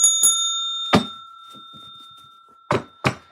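A bright bell rings twice at the start and its clear tone hangs on, followed by a few sharp knocks and thuds in otherwise quiet surroundings.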